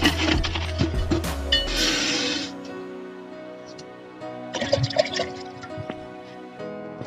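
Water sloshing and splashing inside a water heater tank as it is washed out during servicing, close gurgling and dripping bursts with clattering, mixed with someone talking.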